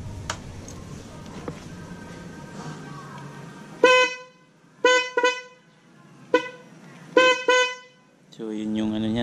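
A dual high-low car horn honks in a series of short bursts, two tones sounding together, each toot sharp and loud after a stretch of quieter engine and background noise.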